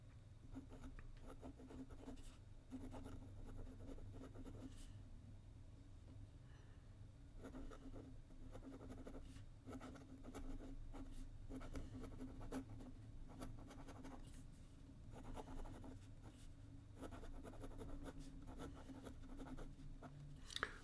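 Pelikan Graphos technical fountain pen scratching across paper, a faint, close, continuous dry scraping with short pauses between strokes, with no talk.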